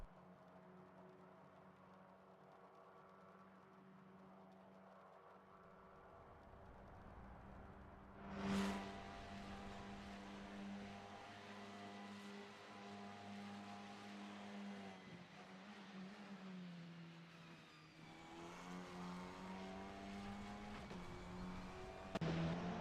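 A Formula 4 race car laps Bathurst in Assetto Corsa, its engine a faint, steady whine that rises and shifts as it climbs through gears, with one sharp surge partway through.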